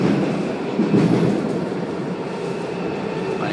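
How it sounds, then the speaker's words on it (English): A Washington Metro Red Line train, a rehabbed Breda 2047 car heading for Gallery Place–Chinatown, rumbles steadily on the rails with a constant broadband roar and faint clatter from inside the car. "This is a red line train to Gallery Place Chinatown."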